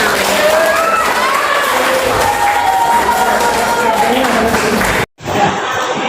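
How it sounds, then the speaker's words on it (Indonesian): A classroom group claps hands together during a school quiz game, giving a loud, dense burst of applause with some voices and cheering mixed in, stopping sharply near the end. "Tepuk tangan."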